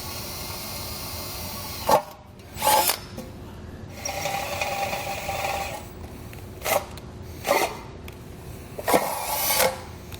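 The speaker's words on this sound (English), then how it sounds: "I'm going to start with a small drill bit for a pilot hole." A small power drill with a small bit whirs in short, separate bursts with pauses between them, close up, plus one longer steady stretch of drilling a pilot hole.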